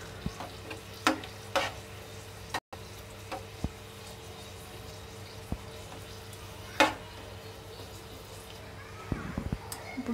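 Dried red chillies frying in hot oil give a faint, steady sizzle with a few soft clicks and taps of a utensil against the pan.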